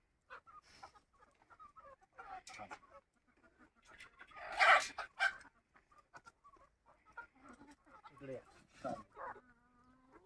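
Free-range country chickens cluck in scattered bursts at moderate distance, with a louder flurry in the middle and a person talking quietly now and then.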